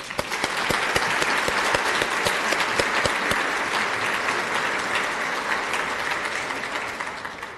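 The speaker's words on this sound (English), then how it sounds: "So now let's applaud." Audience applause at a chamber of commerce awards dinner, steady dense clapping filling the whole stretch with a few sharper nearby claps, fading slightly at the end.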